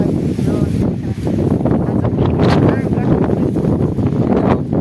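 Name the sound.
strong gusty wind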